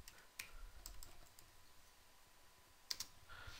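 Typing on a computer keyboard while writing PHP code, with sparse, soft key clicks in irregular bursts, close and quiet, and a sharper cluster of keystrokes near the end.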